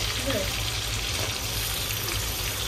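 Onions and chillies fry in melted butter over a high gas flame, giving a loud, steady sizzle that continues without a break, with faint stirring now and then.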